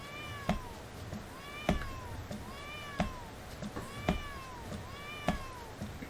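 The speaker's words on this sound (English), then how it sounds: "Can you hear the deafening sounds of meow?" A cat meows repeatedly, five or six drawn-out calls at steady intervals, fairly close, over a soft background hiss with no talking.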